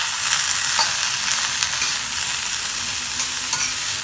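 Onions sizzle steadily in a pan for a long beans and Maldive fish pirattal while being stirred, a dense close frying hiss with light scraping.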